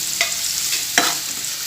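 Tomatoes, dried red chillies, garlic and tamarind are stirred in a hot pan for mint chutney, giving a low frying hiss with a couple of sharp spoon taps against the pan, close by and without speech.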